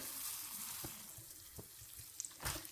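Poha and cashews stir-fry in a pan, a faint, continuous crackling sizzle with a few soft stirring knocks and a brief louder scrape near the end.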